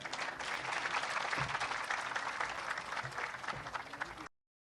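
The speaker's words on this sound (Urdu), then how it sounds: "اور اب آپ سب کی تالیوں میں, بھرپور تالیوں میں" Sustained audience applause greets Prime Minister Shehbaz Sharif at a public address in Gilgit-Baltistan, a dense, steady clapping crowd filling the hall for over four seconds before cutting off abruptly.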